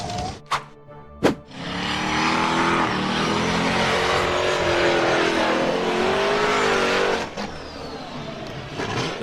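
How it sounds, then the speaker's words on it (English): An off-road buggy engine revs hard and steadily while climbing a steep muddy dirt slope, loud and close for most of the stretch, after a couple of sharp knocks at the start, then it eases off near the end. "The buggy sped up the muddy dirt slope, but it lost momentum, lurched forward, flipped over"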